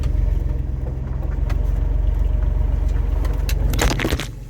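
A Mopar car drives along a road, its engine a steady low rumble throughout with a brief rattling scrape near the end.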